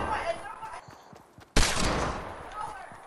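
Shotgun gunfire in Fortnite, a sudden loud blast cutting through a quieter stretch, followed by a dense burst of shooting noise, with someone talking over the action.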